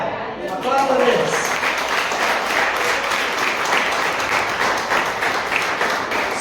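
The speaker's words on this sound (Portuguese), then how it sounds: "Aplauda a Deus." A church congregation applauds, with sustained close clapping that holds at a fairly loud level throughout, and voices cheer and call out amid the applause.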